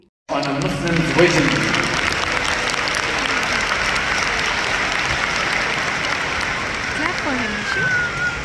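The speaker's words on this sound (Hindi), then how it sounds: "तालियों से ना पूरा हॉल गूंज उठा था मुफ्ती मेंक के लिए" Audience applause fills a large hall at an event, a loud, sustained wash of clapping that begins abruptly and carries on steadily throughout, with crowd noise mixed in.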